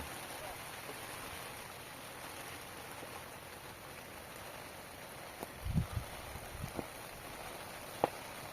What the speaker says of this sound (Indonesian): Hujan bos, mau pulang malah hujan.